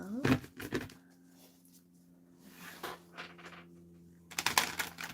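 Tarot cards shuffled by hand in bursts of crisp riffling and tapping, a quiet gap in the middle, with a low steady hum running underneath.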